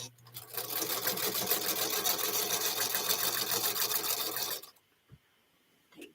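A Singer Featherweight sewing machine stitches fabric in a steady, dense mechanical whir that runs continuously for about four and a half seconds, then stops, leaving near silence with a faint knock.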